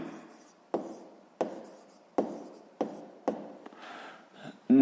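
Pen or marker strokes writing numbers by hand during a math exercise, a series of about six sharp scratchy strokes each fading quickly, close and fairly quiet, with no talk.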